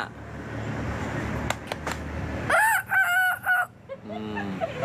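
A boy in Surin province imitates a rooster crowing with his voice, producing a loud, close, drawn-out cock-a-doodle-doo with rising and falling pitch, followed by a short clucking tail, over faint background noise.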